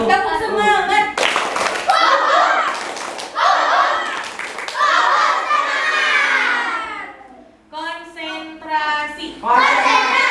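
Children at a nature homeschool clap out a rhythmic tepuk semangat chant together, sharp bursts of hand claps mixed with loud shouted chanting voices, briefly pausing before starting up again.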